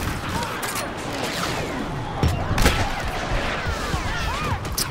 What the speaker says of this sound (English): I like this A180 sniper thing better than the pulse cannon.